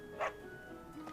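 A dog in the video game Fire Emblem Three Houses gives a single short bark, followed later by a fainter second yip, over quiet game music.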